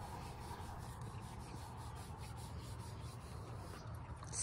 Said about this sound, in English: he does stand still for me to give him a few little shoulder scratches every time I see these guys.